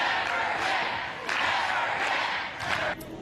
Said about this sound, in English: The crowd there chanting "Never Again," an incredibly powerful moment.